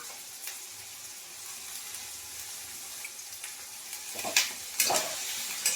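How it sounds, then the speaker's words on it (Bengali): Beans stirred into chicken frying in a pan: a steady, quiet oil sizzle with occasional sharper scrapes and clicks of the spatula growing more frequent toward the end. "সেই জন্য বিনসগুলো আমি এর সাথে দিয়ে নেড়ে নেবো"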